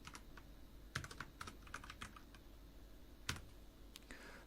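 Code being typed on a computer keyboard, a steady run of quick, close key clicks in loose bursts with a few heavier strokes, alone with no talk.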